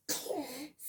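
A child sneezes once, a short sharp burst that tapers off quickly, close and fairly quiet, with no talking.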